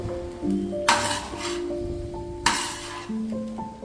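Veg tawa pulao being stirred in a pan just after lemon juice is added, a spoon or spatula clinking against metal in two sharp bursts amid soft scraping, close and fairly loud, with no talk.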